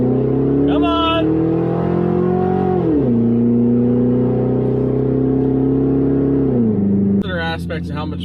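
A Ford Crown Victoria Police Interceptor's big V8 engine idles and revs loudly up close, the pitch rising and dropping in steady swells, with a brief higher whine at the start and end.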